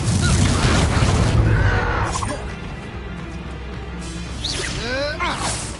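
A fiery Incendio spell bursts out in Hogwarts Legacy during a wizard duel, a loud booming whoosh that roars for about two seconds, then fades into softer crackling magic effects and another swishing cast near the end.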